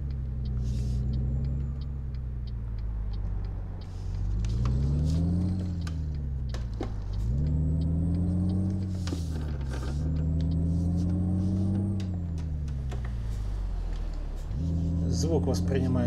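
Simulated engine of a Volvo VNL780 truck with around 700 horsepower in Euro Truck Simulator 2 on a Russian map, a steady loud low drone rising and falling in pitch through several gear changes.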